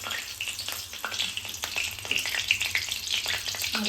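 Bay leaves crackle and sizzle in hot oil in a pan, a steady close frying hiss with small popping bursts throughout.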